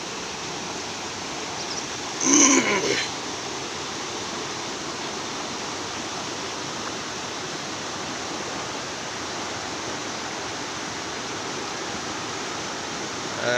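River water rushes from Robber's Cave waterfall near Dehradun, a loud, steady roar of flowing water close by, broken only by a short faint tone early on, with no talking.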